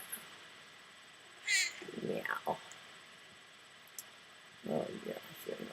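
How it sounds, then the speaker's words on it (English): A cat meows loudly twice, a near wavering call followed by a second burst of meows a few seconds later, with a person talking softly between them. "noisy kitty you are."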